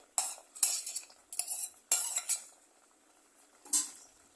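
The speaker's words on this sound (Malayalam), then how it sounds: "എന്നിട്ട് ഒന്നുകൂടെ ഒന്ന് ഇളക്കി" A spoon scrapes and clinks against a pan while pachoru is stirred with cashews and raisins fried in ghee, in several short, sharp bursts with brief quiet gaps between them.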